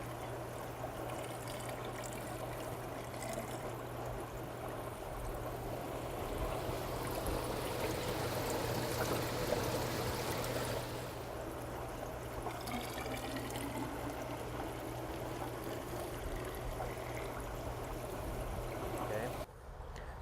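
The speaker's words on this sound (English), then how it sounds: "we're going to be taking a water sample from our clean water storage chamber" Water poured from a clean water storage chamber of a Zoller Fusion wastewater treatment system into a sample container, a steady trickling wash heard throughout over a low constant hum, ending abruptly.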